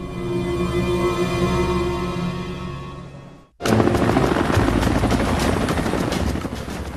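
A Sikorsky S-92A helicopter with a design flaw flies with a loud, steady rotor drone. The sound cuts out abruptly midway, then returns as a harsher, louder thumping roar that runs to the end.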